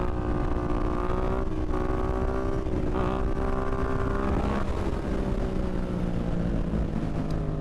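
A Yamaha MT-07 motorcycle accelerates hard in third gear for a wheelie, its engine a loud, continuous close-up drone that shifts in pitch as the throttle changes, with no talking.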